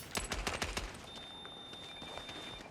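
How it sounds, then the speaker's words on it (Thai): Rapid automatic gunfire in the Scavengers battle royale video game, a burst of close, sharp shots in the first second followed by quieter scattered shots and a thin high tone trailing off. "เหมือน กระสุน มันลอยมาอยู่ตลอดเลย"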